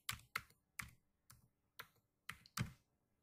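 Computer keyboard typing the word diskpart, seven crisp close key clicks in an uneven rhythm, quiet and alone with no talking.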